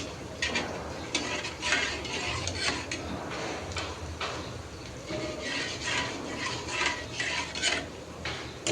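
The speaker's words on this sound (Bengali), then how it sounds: "তো ভাজিটা নেড়ে চেড়ে ভেজে নিচ্ছি" Vegetable bhaji being stirred and fried in a pan, repeated metallic scrapes and clinks of a spatula against the pan over a low sizzle, close and rhythmic, without talk.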